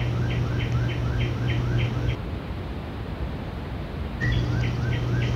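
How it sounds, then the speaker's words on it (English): Birds chirp in a horror video game's morning ambience, a repeating series of quick tweets over a steady low hum and rushing background noise, pausing briefly before the chirping resumes. "there's birds that chirp in the morning"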